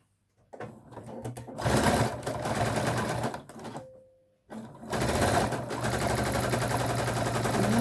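A sewing machine stitches trouser fabric in two long, loud bursts of rapid, steady needle chatter, stopping briefly in between with a short whirring tone before running again.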